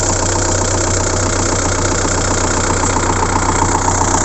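A loud tractor engine idles steadily with a rhythmic, knocking chug, running unchanged from start to finish without any voices.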